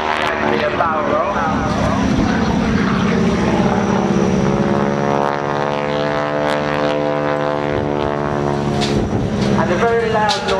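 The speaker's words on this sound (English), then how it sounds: "the very loud noise you can hear is actually the engine" A North American T-6G Texan propeller plane roars through an aerobatic display at Shoreham, its engine a loud, sustained drone whose pitch bends and shifts as the aircraft manoeuvres.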